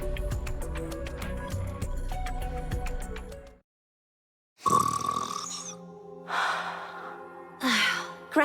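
A cartoon character snoring loudly in an animated fairy-tale film, long rasping inhales followed by a pause and then several breathy, whistling snores, close and alone without speech.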